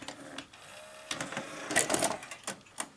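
Sanyo VTC-MH5 Japanese NTSC Beta Hi-Fi video recorder loading a tape: a run of close mechanical whirs, clicks and clunks from the transport, with a steady motor hum and several sharp knocks near the end.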